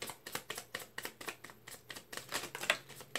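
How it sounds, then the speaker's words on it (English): Tarot cards being shuffled by hand in quick, crisp riffles and taps, a rapid irregular run of close, dry paper clicks with no talking. "All right, last shuffle."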